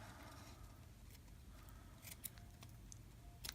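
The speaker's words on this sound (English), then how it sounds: "I'm not using my ribbon scissors, so it's not cutting very well." Scissors not made for ribbon snip through a length of ribbon during a craft trim, giving two or three faint, sharp clicks over a low steady background hum.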